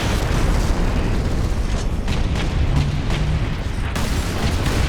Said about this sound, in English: aim for all of the cleverly labeled red explosive barrels